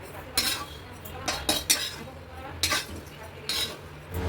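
Fried vermicelli scooped from a pan onto a plate, with a spoon or ladle striking metal in about half a dozen sharp, separate clinks and scrapes at close range, irregularly spaced.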